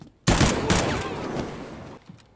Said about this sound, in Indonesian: Johan mengambil senapan dan menghabisi orang ini